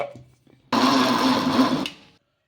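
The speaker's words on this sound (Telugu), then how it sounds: "ఒక చుక్క కూడా నీళ్ళు లేకుండా మిక్సీ అయితే పట్టేసుకుందాము" A mixer grinder whirs loudly for over a second after a brief pause while grinding cooked rice with no water, then winds down; faint speech precedes it.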